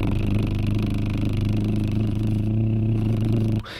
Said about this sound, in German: In der Zwischenzeit habe ich einen Motor dran gebaut, deswegen ist es so laut.